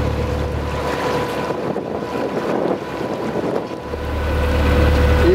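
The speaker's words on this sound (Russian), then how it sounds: "Ветер южный, юго-восточный. До 14 метров в секунду порывы" Strong southerly wind gusting to 14 m/s buffets the microphone aboard a small motor yacht in a steady roar, gusting up and down, with a low engine-like rumble underneath and no speech.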